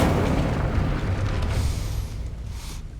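A fiery Incendio spell blast cast in Hogwarts Legacy, heard as a loud booming burst up front that rumbles and fades over about three seconds, with no talking.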